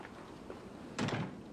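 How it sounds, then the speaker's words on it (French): A door closed with a single dull thunk, brief and moderately loud against a quiet room tone in a Venezuelan soap opera scene. "Ferme la porte."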